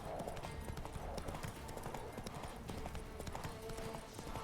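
Horse hooves gallop in a steady, rapid clip-clop rhythm while riding through The Witcher 3: Wild Hunt, quiet and continuous, with faint game sounds beneath.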